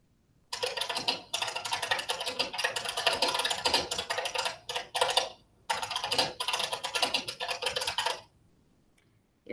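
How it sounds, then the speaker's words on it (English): Someone types fast on a very loud keyboard, a dense, clattering stream of clicks in long bursts broken by short pauses, close and alone. "That was somebody typing on a very loud keyboard"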